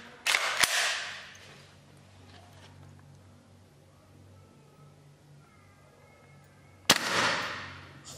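An airsoft SCAR gas blowback rifle firing 0.2 gram BBs through a chronograph, two sharp, loud single shots several seconds apart, each with a short bright ring-out, against a quiet background.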